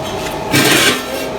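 A grinder dressing down a weld on a rusted steel wheel rim, giving a brief harsh rasping scrape that swells for about half a second, heard close and alone.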